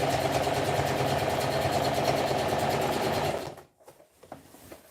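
A sewing machine stitches fabric in a steady, rapid run for over three seconds, then stops, leaving faint handling noises and clicks.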